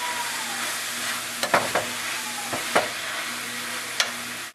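Granulated garlic and onions sizzle steadily in a frying pan while a spoon stirs through them, with a few sharp scrapes and clinks against the pan over the constant close frying hiss.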